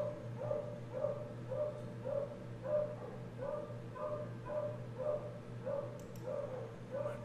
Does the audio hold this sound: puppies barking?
yes